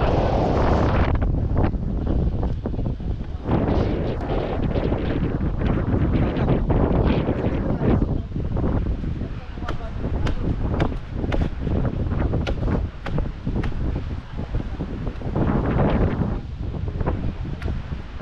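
Loud, gusty wind roars continuously against the microphone, with sharp rattling bursts and flapping noises rising and falling throughout.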